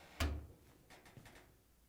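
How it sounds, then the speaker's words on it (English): Door of a Hotpoint clothes dryer being opened: one sharp, close latch pop followed by a few faint rattles and clicks as the door swings, with no voices. "To get it apart, we need to open the door."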